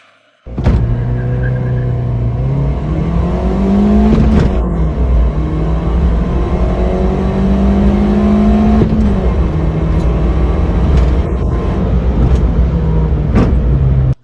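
A Ford Fiesta hatchback accelerates hard from 0 to 100 km/h on a test track. The engine is loud and close, climbing through the gears with clear upshift breaks, and no one speaks.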